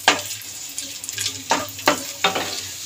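Raisins fry in hot oil, giving a light sizzle broken by several sharp scraping stirs at roughly half-second intervals.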